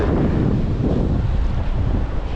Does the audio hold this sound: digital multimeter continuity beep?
no